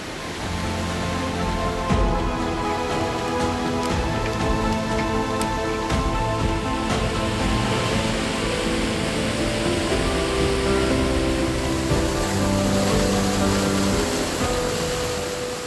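A small waterfall on the Rio Salagoni along a via ferrata trail near Drena makes a steady, loud rush of falling water that carries on without a break and with no voices.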